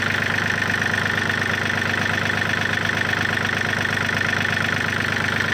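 A Yanmar 39 hp tractor engine idles steadily up close, a loud, even, continuous diesel chug with a constant mechanical hum and no pauses.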